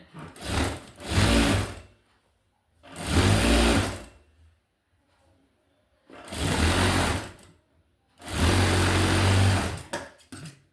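A sewing machine stitches a blouse sleeve in four loud, close bursts of rapid motor whirring, each lasting one to two seconds, separated by short quiet pauses.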